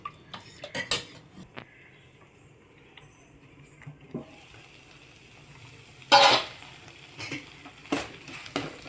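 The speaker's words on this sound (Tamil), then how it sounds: "வெங்காயம் காஞ்ச மிளகாலாம் போட்டு தாளித்து ஊற்ற வேண்டியது தான்" Onion and dried red chillies tempered in hot oil for onion sambar, with scattered clinks and scrapes of a metal spoon against the pan, a light sizzle underneath and a louder clatter of cookware partway through.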